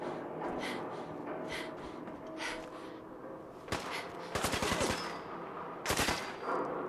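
Super mutants fire on the player in Fallout 4, loud rapid bursts of automatic gunfire coming in a couple of sharp volleys over a steady background din.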